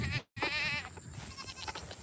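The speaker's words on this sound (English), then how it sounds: "Oh, look at the goats." Goats bleating on a farm during morning chores, a couple of close, wavering bleats with faint background noise.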